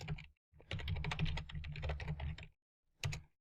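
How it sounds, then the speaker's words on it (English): Bursts of typing on a computer keyboard while entering a link or login details, a dense run of clicking keystrokes for about two seconds, then a short separate flurry, close and moderately loud. "So I'm going to paste the link, or just type it in."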